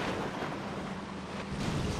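An explosion in the video game Syphon Filter 3, heard as a dense, sustained roaring rumble filling the whole clip at an even level, with no clear single blast peak.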